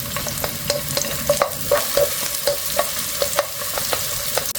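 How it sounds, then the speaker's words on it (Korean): Chopped scallion and garlic stir-frying in olive oil in a pan, a steady sizzle broken by regular scraping and tapping of a utensil stirring, close and clear with no talking. "팬에 올리브유를 두르고 다진 파와 마늘을 볶아서 향을 냅니다."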